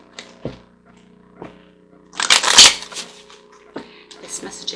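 Small oracle cards being shuffled, a soft rustling flutter that builds into a louder riffle burst midway, with lighter shuffling afterward and a few faint taps; no talking.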